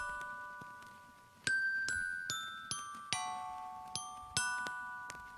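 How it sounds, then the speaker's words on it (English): A series of bright bell tones from a music sample struck one after another, each ringing out and decaying, with several chiming strikes in a steady melodic pattern. "That bell sound, that goes for 8 bars."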